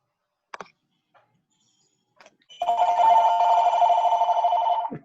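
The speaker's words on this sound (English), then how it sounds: "Somebody's phone." A mobile phone rings loudly in a quiet meeting room, a sustained electronic ringtone lasting a few seconds after some brief clicks and taps, with no one speaking over it.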